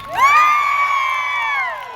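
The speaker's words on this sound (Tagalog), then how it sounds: "Isa hong masigamong palakpak na may kasamang sigaw!" An audience at an OFW event in Bahrain erupts in loud cheering and shouting, sustained whoops and yells rising quickly and holding for about two seconds, close and dense.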